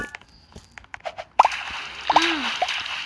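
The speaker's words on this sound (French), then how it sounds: "Ah, goutte d'eau" Water-drop effect from a Roblox video game: a few short, bright plinking drops, spaced apart, against a soft watery sloshing background, with faint voice sounds.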